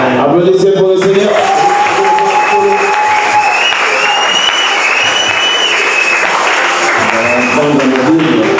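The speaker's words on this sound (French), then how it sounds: "Applaudissez pour le Seigneur." A church congregation claps loudly and continuously at a service, the applause close and dense, mixed with crowd noise and faint sung or called-out voices rising over it.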